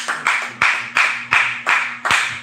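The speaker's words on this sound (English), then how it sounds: "Give my sister Linda 7 Hebrew claps." Seven sharp claps in an even, brisk rhythm, close and clear, given as Hebrew claps for a sister in a religious gathering.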